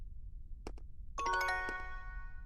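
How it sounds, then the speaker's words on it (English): A phone notification chime rings in a video game, a short two-tap click followed by a bright, ringing multi-tone ding that lingers and fades against a quiet background hum. "Got a notification."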